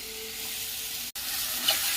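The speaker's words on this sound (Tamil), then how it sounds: "இஞ்சி பூண்டு, மஞ்சள், குழம்பு மிளகாய் தூள் எல்லாம் போட்டு வணக்கி ரெடி ஆகிட்டுருக்குது." Ginger-garlic paste, turmeric and chilli powder sauté in a pan with a steady close sizzle, broken by one brief dropout, with a faint stir near the end.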